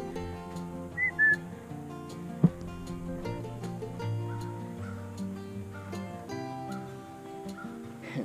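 A person out walking at Port Sheldon Open Space whistles to call a dog back. Two short, high whistles come early in the clip over a steady bed of background sound.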